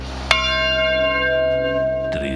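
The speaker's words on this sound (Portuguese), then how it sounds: "Mas o grande sino ainda não terminara." A great clock bell strikes once, loud and close, its deep metallic tone ringing on with a long, slowly fading resonance, and a second strike arrives just as the first decays.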